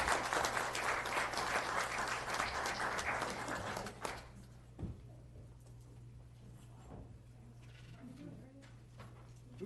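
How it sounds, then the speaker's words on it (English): Applause from the audience at a county board of supervisors meeting, a steady spread of clapping for about four seconds that then cuts off, followed by quieter room noise, small thumps and distant voices. "This is the time when everybody applauds."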